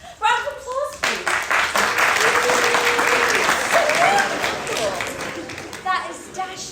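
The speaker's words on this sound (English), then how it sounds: "Round of applause, please." Audience applause at a live stage performance, a dense burst of clapping that swells after a short pause and carries on steadily, with talk heard at the start and end.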